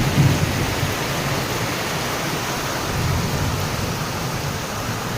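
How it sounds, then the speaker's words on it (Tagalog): Thunder rumbles through steady heavy rain falling beside a house during a strong storm, the downpour a dense continuous hiss with low rolling booms, loud and close throughout. "oh kumukulog pa"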